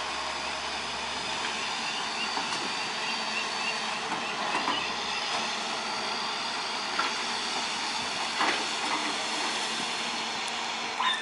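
A duck-bill dredger excavator scoops mud to build up a dike bank, giving a steady mechanical rumble and grinding with occasional creaks and clanks, heard at a moderate distance.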